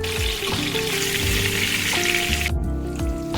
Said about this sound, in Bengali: বেরেস্তা ভাজা তেলের মধ্যে আমি আলু ভেজে নেব।